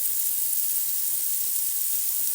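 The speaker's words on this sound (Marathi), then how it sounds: "टोमॅटोला छान असं फ्राय करून घेऊ" Tomatoes frying in a pan give a soft, even sizzle that stays steady and fairly quiet throughout, with no voices.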